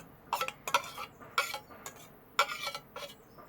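A spoon mixing coconut milk in a bowl, with a quick series of bright clinks and scrapes in uneven bursts, close and clear with no speech.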